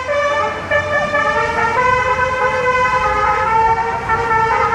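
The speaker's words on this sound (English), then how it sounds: "somebody coming by playing Christmas music on their car horn" A car horn plays a Christmas tune on a passing vehicle, bright stacked tones stepping through a melody loudly and close, with a faint road hum underneath and no talking.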